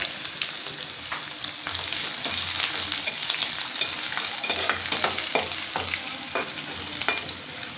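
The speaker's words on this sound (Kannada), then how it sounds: "ಚಟಪಟ ಬೆಳ್ಳುಳ್ಳಿ. ಅಲ್ಲೇ ಜೀರಿಗೆ ಚಟಪಟ ಅಂತಾರೆ, ಬೆಳ್ಳುಳ್ಳಿ ಚಟಪಟ ಅಂತಾರೆ." Garlic and cumin seeds crackle and spit in hot frying oil, a dense steady sizzle with scattered sharp pops running throughout, close and alone with no talking.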